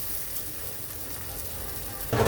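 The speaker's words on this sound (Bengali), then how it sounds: "চলো এটাকে একটু হালকা ভেজে নেই" Fish sizzles and crackles in hot oil in a pan for a fish curry, a steady frying hiss that grows louder and brighter at the very end.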